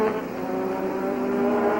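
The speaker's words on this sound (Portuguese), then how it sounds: "Aí você vê o Prost se aproximando do Streiff" Formula 1 race cars at the Canadian Grand Prix, with Prost closing on Streiff, give off a continuous, loud, high-pitched engine howl that holds steady with slight pitch shifts and no talking over it.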